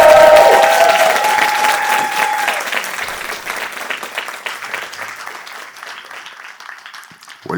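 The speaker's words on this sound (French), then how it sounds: "Est-ce qu'on peut accueillir Vital avec un maximum d'applaudissements," An audience at an awards ceremony breaks into loud, dense applause that welcomes a guest on stage, with a brief tone near the start, then thins and fades gradually over several seconds.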